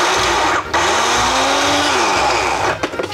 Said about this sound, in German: Schwacher Mixer.